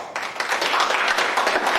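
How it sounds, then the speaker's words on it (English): Audience applause at a faculty union event at a college, a steady wash of clapping filling the room for a short stretch. "So please give them a round of applause."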